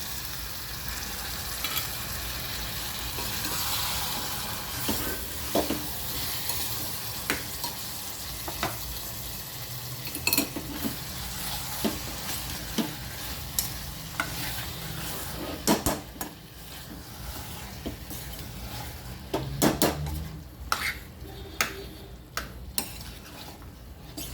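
Tomato curry with turmeric and ginger-garlic paste frying in a pan, a soft continuous sizzle broken by repeated clinks and scrapes of a metal spoon against the pot, with no talking.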